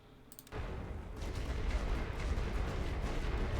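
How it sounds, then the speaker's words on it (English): Artillery barrage in the World War I trench game The Great War: Western Front, a sudden onset of dense, continuous rumbling booms that swell and roll without pause after a brief quiet start. "let's get some artillery on that spot"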